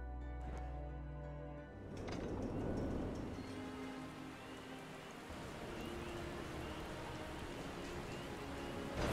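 Steady rain hiss in the Final Fantasy XIV game world, a continuous patter spread across the whole stretch at moderate, even loudness, with faint game ambience and no talk.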